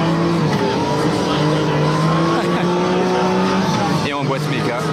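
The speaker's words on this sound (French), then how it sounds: "Là, il est en train de drifter sur le circuit de glace." A Lamborghini Miura with a manual gearbox drifts on an ice circuit, its engine holding a loud, steady droning note that swells and shifts as tires squeal, with a sweeping change near the end.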